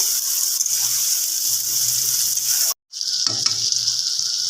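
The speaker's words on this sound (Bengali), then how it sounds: "এবার এই টমেটোটা দিয়ে ভালোভাবে একটু নাড়াচাড়া করে নেওয়া হচ্ছে" Tomatoes sizzle and fry steadily in a pan while being stirred, with a continuous close hiss broken by one brief silence and a few scraping stir sounds.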